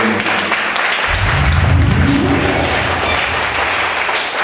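A Sunday church congregation in Côte d'Ivoire bursts into loud, dense applause that fills the room steadily from start to finish, with a low rumble of voices and movement rising beneath the clapping.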